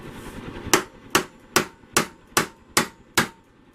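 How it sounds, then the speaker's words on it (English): A hammer taps a steel ball bearing into a tight-fitting metal socket while welding a replica Final Fantasy Buster Sword: seven sharp, evenly spaced metallic strikes about half a second apart, loud and close, with no talking. "Tap it, tap it, tap."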